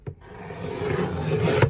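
Paper cut-aparts for a craft project being trimmed, a short raspy cutting and rubbing stroke heard up close on its own.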